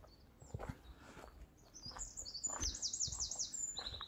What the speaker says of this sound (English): I can hear a robin singing his little heart out